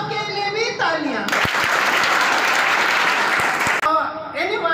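Applause for the school headmaster and staff at a ceremony honouring successful SSLC students, a burst of clapping for a few seconds, bracketed by someone speaking before and after.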